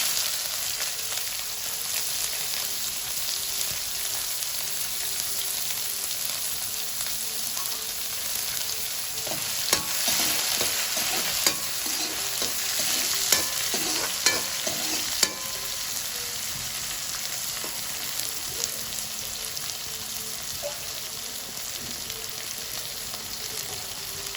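Onions and cinnamon frying in hot oil with mustard and fenugreek seeds, a steady loud hiss and crackle that carries throughout, with a flurry of sharper pops and stirring clatter in the middle.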